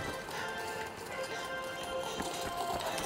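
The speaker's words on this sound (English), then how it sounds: "I hear footsteps on my left." Footsteps in the shooter game The Finals patter in a quick, steady run amid game ambience and busy background sound, moderately loud throughout.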